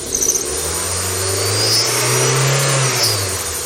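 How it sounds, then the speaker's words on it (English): A burned Mazdaspeed Miata with 93,000 miles, brought back to running, revs loudly and steadily up close, its engine note swelling and falling with throttle over a sustained run. "The engine sounds healthy."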